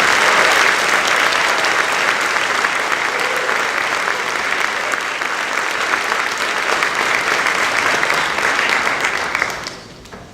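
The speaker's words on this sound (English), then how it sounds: "Give yourself a round of applause." Sustained applause from an audience at a National Honor Society induction ceremony, dense steady clapping for about nine seconds before fading out at the end, with no speech over it.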